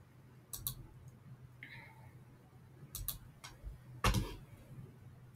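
Several sharp, faint mouse clicks land in small clusters against a quiet background hum while a flow is run in Microsoft Power Automate.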